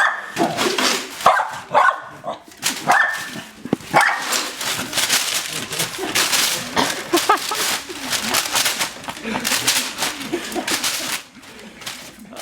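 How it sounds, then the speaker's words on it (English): A dog close by, barking repeatedly and whimpering in an excited, irregular burst, with some background noise and voices mixed in. "After spending way too much time playing with Warren's amazing dog"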